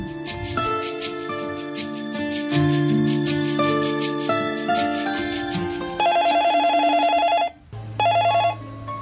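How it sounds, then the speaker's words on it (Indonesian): A phone ringtone plays a repeating melodic electronic tune, loud and close, pausing briefly before the ringing resumes. "Supri yang terkaget ketika mendengar suara ponselnya berdering"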